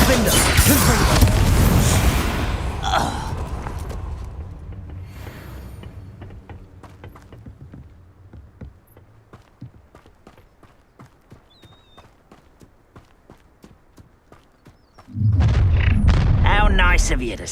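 Confringo spell blasts in Hogwarts Legacy combat, a loud booming burst at the opening, then a long run of rhythmic clattering rumble, and another heavy explosion near the end, with shouted game voices.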